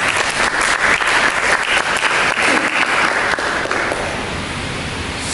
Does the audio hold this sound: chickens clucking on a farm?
no